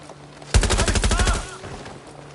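Gunfire in the video game Watch Dogs: Legion, a loud rapid burst of automatic shots that starts sharply and fades over about a second, close up and heard alone.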